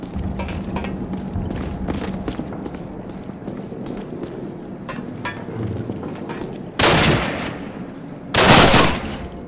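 Gunfire and rifle shots in a war video game, scattered sharp cracks over a continuous rumble, with two louder, longer bursts of fire near the end.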